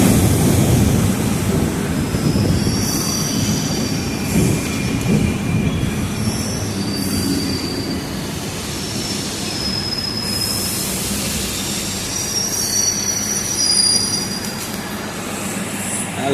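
Train rolling through Thiruvallikeni railway station in Chennai in the early morning, a continuous loud rumble of wagons with repeated high wheel squeals and clattering track noise throughout.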